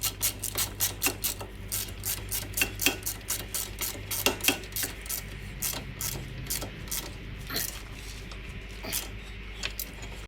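A ratchet wrench clicks rapidly and repeatedly while an Audi TT's Bilstein B8 shock absorber is assembled, close metallic ticking in uneven runs over a steady low hum.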